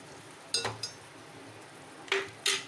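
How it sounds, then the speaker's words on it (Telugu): A metal pot lid clinks and settles onto a cooking pot of okra and raw prawn tamarind curry, a few close metallic knocks and rattles in two brief clusters over a quiet kitchen background. "ఇలా ఒక 10 నిమిషాలు మూత పెట్టేసి"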